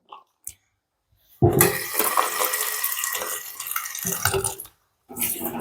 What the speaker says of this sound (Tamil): மற்றது வந்து பச்சை மிளகாயை நாங்கள் கழுவணும்